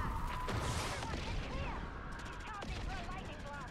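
Gunfire rattles in Call of Duty Modern Warfare 3 Zombies mode as players shoot at glowing orbs, fast overlapping shots and impact sounds layered with game effects and chatter at a low level.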